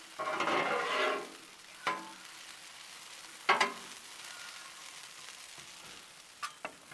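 Smoked sausage sizzling on a Blackstone griddle: a burst of hissing at first, then quieter sizzle punctuated by several sharp spatula scrapes and clacks on the flat steel.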